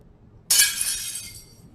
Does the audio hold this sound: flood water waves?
no